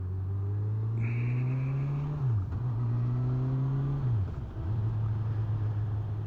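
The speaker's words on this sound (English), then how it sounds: "The bike sounds nice." A Honda CB1000R Neo Sports Cafe Racer motorcycle engine drones steadily and close up, with its pitch dropping and recovering twice as the revs change, and no talking.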